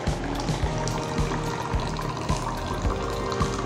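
A rechargeable electric pump on a mineral water jug fills a glass, giving a continuous, close splashing pour over a steady low motor hum, with no talking.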